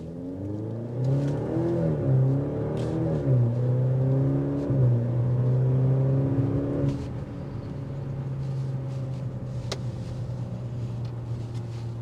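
A 2025 Maserati Grecale Modena turbo SUV accelerates from a stop, its engine climbing through several rising gear pulls with shift dips, then settling into a steady cruising drone heard from inside the cabin.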